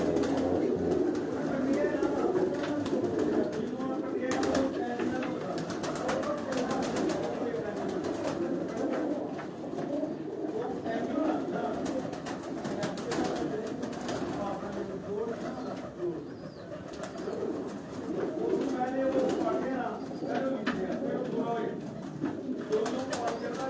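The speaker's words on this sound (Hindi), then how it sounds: "ये मोतियों वाले सियालकोट के जो चूहे कबूतर हैं, ये उस ब्रीड से ये कबूतर है" Sialkot-breed pigeons coo continuously in a loft, a soft layered murmur of many birds close by, with someone talking over them throughout.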